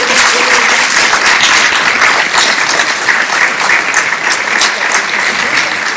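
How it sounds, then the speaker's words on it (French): Loud, sustained applause from a conference audience at a climate and youth debate, thick and continuous throughout, with some voices faintly mixed underneath. "Continuez d'applaudir, parce que je voudrais vraiment vous remercier nos intervenants."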